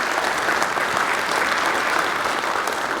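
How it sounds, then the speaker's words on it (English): A crowd at a spring opening meeting in Pittsburg, Kansas applauds loudly and steadily, a thick, continuous wash of clapping with no gaps. "let's give that a round of applause"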